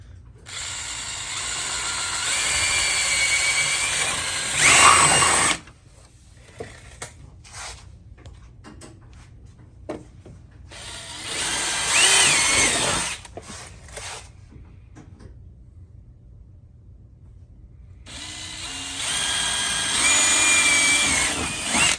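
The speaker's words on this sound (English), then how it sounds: "So we got those holes drilled." A power drill bores holes into Honda Talon lower doors, about half to three-quarters of an inch in from the bottom edge. There are three loud, close whirring bursts with quiet gaps between them.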